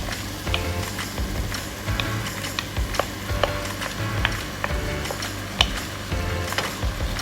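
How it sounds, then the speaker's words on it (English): Potato and carrot pieces drop into a pan of softened onions for Japanese chicken curry, making a steady close sizzle with scattered ticks and scrapes of stirring throughout. "now's the time to add in your potato and your carrot that you have previously microwaved"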